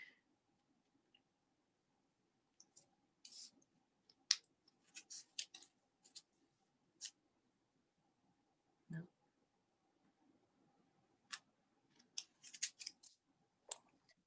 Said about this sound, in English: So sometimes this is when you get the better scissors.